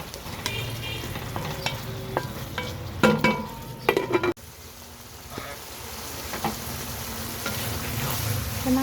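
Vegetables and tomatoes sautéing in a hot oiled pan for Chinese vegetable fried rice: a close, continuous sizzle with frequent spatula scrapes and clacks, loudest in the middle, no voices.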